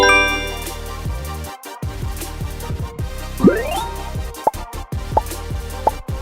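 A run of playful doorbell sound options plays, with layered chiming tones, a rising whistle-like sweep, then three short, evenly spaced dings, all clear and close.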